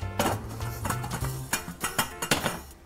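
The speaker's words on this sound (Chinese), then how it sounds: "有点爆香了哦，这个姜片哦" Ginger slices in sesame oil in a small pot, heard as close metallic clinks and scraping of a utensil against the pot, with a run of sharp taps near the end, fairly faint, without talk.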